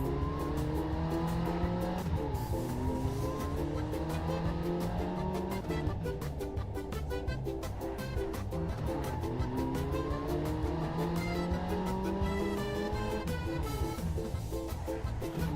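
A car in Second Life driving off with burning tires: a continuous engine drone with rising and falling pitch sweeps as it revs and shifts, mixed with squealing tire tones, steady and moderately loud throughout.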